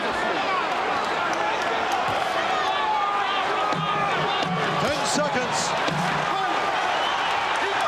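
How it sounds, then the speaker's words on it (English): A boxing crowd on its feet in a convention hall during the closing seconds of a round between Evander Holyfield and George Foreman, a dense continuous roar with whoops, under a commentator's voice. "The crowd is on their feet here at the convention hall."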